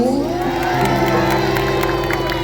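Loud crowd cheering and whooping at an outdoor Thai concert fair in Khlong Luang, Pathum Thani, with clapping and sustained music tones underneath, packed and continuous throughout.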